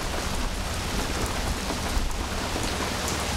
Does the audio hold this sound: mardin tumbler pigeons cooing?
no